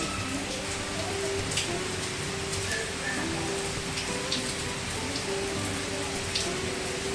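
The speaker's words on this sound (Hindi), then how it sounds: "देखो कितनी तेज़ बारिश हो रही है" Heavy rain pours in a constant, dense roar of drops on surfaces, steady throughout, with a faint hum underneath.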